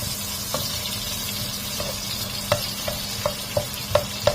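Red onions frying in a pan for squid adobo: a steady, soft sizzle with intermittent light clinks of a utensil stirring, close and moderately quiet, without speech.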